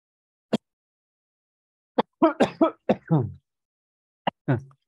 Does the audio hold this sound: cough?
yes